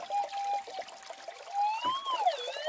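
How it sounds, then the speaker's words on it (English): Water trickling and pouring over rocks in a narrow gold-prospecting creek, a steady close gurgle with bright, shifting splashy tones running throughout. "This is a bit of water flowing here."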